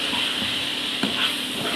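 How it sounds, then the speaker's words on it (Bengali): Maggi noodles fry in a pan with a steady, close sizzle and occasional scraping stir strokes, no voices. "এখন এটা দিয়ে একটু ভাজা ভাজা করব।"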